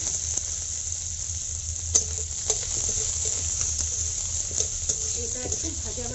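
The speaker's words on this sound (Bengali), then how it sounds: "এর মধ্যে আমি একটা ছোট সাইজের পেঁয়াজ কুচি করে রেখেছি," Finely chopped small onion fries in hot oil, a bright steady sizzle close by, dotted with a few sharp crackles and light stirring taps.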